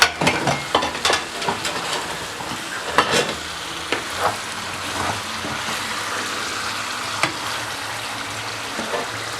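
A spoon stirring through simmering tomato sauce and lifting meatballs out of the pot, with soft sizzling and bubbling under a run of clinks and scrapes, loudest at the start and thinning out later.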